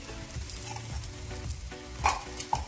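A green chickpea paratha sizzles in ghee on a hot pan while being pressed down to crisp, giving soft steady frying crackle with a few brief louder spatters and scrapes.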